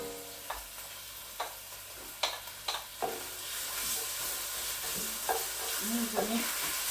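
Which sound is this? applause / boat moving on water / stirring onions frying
stirring onions frying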